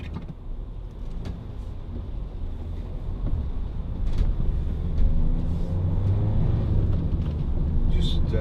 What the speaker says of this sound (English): Just take a quick drive up the motorway as well.